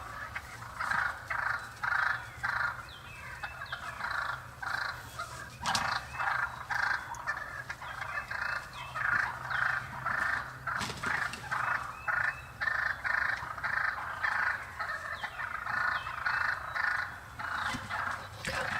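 Wild turkeys gobble repeatedly in the breeding season, rapid rattling calls coming in regular bursts over a faint low hum, fairly close and continuous.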